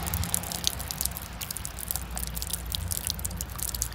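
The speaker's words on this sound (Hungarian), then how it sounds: "Még ide, a lencséhez is felcsapódik gyakorlatilag a víz." Rainwater pouring from a gutter splashes against a building wall, a dense continuous spatter and hiss with irregular droplet hits, close and fairly loud with no talking.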